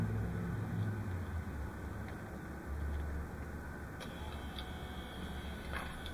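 A small motor runs inside a Battletech Rifleman model, giving a faint, steady whine with light ticking, alone and without speech.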